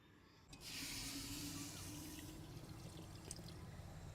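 Milk pours for Bihari doodhpitthi in a steady close stream, starting abruptly with a splashy hiss that continues unbroken to the end, with no speech.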